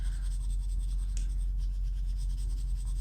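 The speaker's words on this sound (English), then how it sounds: "I'm gonna go ahead and start working on burnishing them now" Colored pencil burnishes paper in close, soft, continuous scratchy strokes as layers are pressed in with increasing pressure, with a low hum running underneath.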